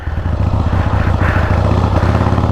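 A 1977 Harley-Davidson Ironhead Sportster engine runs loud and close, a steady low, lumpy rumble with pulsing exhaust beats as the throttle is worked, continuous throughout.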